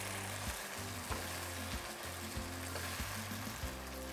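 Tomatoes frying for a cauliflower pepper fry, a steady close sizzle with rhythmic stirring scrapes every half second or so.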